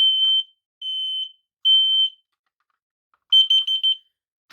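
A built-in battery smoke detector beeps during a reset: three long shrill tones evenly spaced, then a quick burst of rapid chirps, loud and close with silence between.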